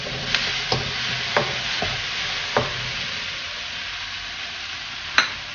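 Onion and tomato sauté in a pan as curry leaves go in. A steady low sizzle is broken by a few sharp taps and scrapes of a spoon against the metal.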